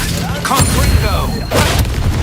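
A Confringo blast spell goes off in Hogwarts Legacy during a boss fight, landing as a loud booming burst with crackling debris, followed by a second impact about a second later amid game noise and voices.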